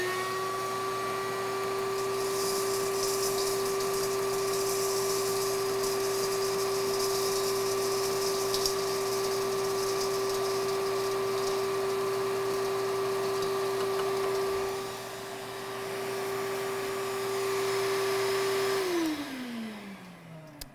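A cocoa bean winnower's vacuum runs with a steady, loud whining hum and a faint buzzing undertone, holding constant for a long stretch before winding down and stopping at the end.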